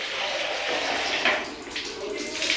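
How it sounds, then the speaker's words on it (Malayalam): Water pouring into a cup, a steady bright splashing stream heard up close and alone, rising and falling slightly as the flow shifts. "ഒരു 1/4 കപ്പ് വെള്ളം എടുക്കാം"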